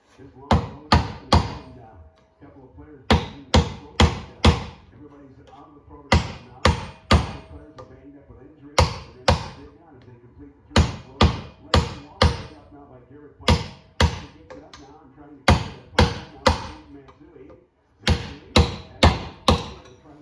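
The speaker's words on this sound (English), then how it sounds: "I'm gonna go ahead and take this piece of square stock and pound out the last bearing." Square steel stock being hammered to drive out the last front wheel bearing of a Suzuki Vinson 500 4x4 ATV, heard as loud metallic blows in bursts of three to five, with short pauses between groups, close and alone.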